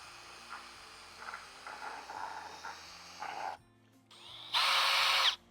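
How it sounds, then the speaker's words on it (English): A Milwaukee drill fitted with a one-gallon paint mixer attachment stirs fertilizer in water, a steady motor whine with swishing surges, a short pause, then a louder, higher burst as it spins up again, no talking. "One-gallon paint mixer attachment for a drill."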